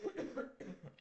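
A person coughs in short repeated bursts close by, two or three harsh coughs separated by brief pauses, outdoors on an autumn trip beside a rainy river.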